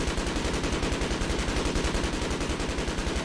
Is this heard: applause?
no